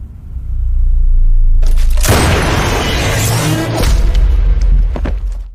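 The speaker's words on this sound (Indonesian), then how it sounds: "Gaozan pun memutuskan untuk menembak ke arah saluran pipa" Gunshot striking a steel pipe in an action film, a heavy booming impact with a rumbling burst that swells and sustains for several seconds, loud and up close with no talk.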